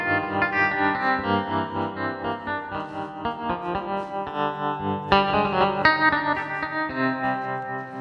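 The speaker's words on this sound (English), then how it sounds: "There's this cool guitar sound that I found that I just love in here." A guitar patch on a Yamaha CP stage keyboard, played with the delay off, runs through a continuous string of sustained chorused notes and chords, moderately loud, with no talking.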